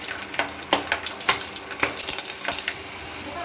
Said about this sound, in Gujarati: તેલ ગરમ થઈ ગયું છે પાંચથી છ કરી આપણે લસણની નાખશું